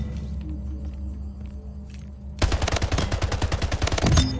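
Automatic gunfire from a gun in the video game Splitgate opens with a sudden loud burst and keeps going as rapid, evenly spaced shots for about two seconds. Before it there is only quiet low game ambience.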